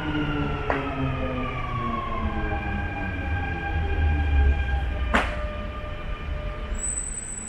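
A Dubai metro train arrives at the platform, a steady loud rumble with rising tonal whine and a couple of sharp squeal bursts, filling the station continuously.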